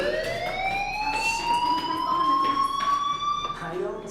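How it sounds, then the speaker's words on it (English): An electronic fire alarm in the video game Life is Strange wails steadily throughout, a rising tone with bright harmonics that holds loud and continuous over the full stretch. "Hey, do you hear that fire alarm? That means you should be outside."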